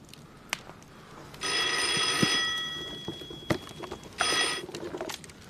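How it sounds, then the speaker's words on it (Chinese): An old field telephone at a regimental command post rings in two bursts, a long loud electric bell ring and then a shorter second one, with scattered clatter and movement between them. "团长，指挥部电话。"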